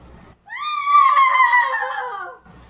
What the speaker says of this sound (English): From a couple blocks away, I heard the scream.